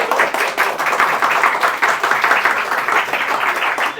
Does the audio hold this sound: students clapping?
yes